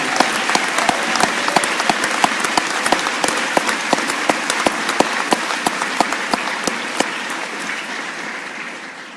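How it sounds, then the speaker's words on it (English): Sustained applause from an audience at a Coast Guard ceremony, dense clapping with sharp individual claps standing out, loud and steady before tapering slightly at the end. "So if you can join me in a round of applause"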